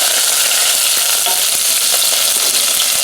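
Basil stirred into a frying pan for a Chicago-style deep dish sauce, a loud continuous sizzle filling the whole stretch with faint scraping strokes beneath, no voices.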